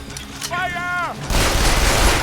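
Gunfire in the Binary Domain video game, a dense sustained burst of loud shots crackling across a broadband roar, preceded by shouted combat voices and a brief electronic sweep.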